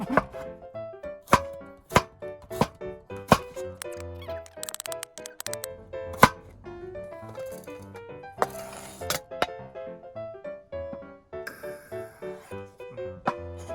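Mushrooms are sliced thinly on a board at a spring campsite, with a run of sharp, irregular knife taps close up and brief rustles between cuts.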